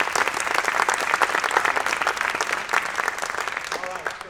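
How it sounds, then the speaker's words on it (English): Loud, sustained applause from a crowd, steady clapping throughout with a slight taper near the end. "please give them a round of applause."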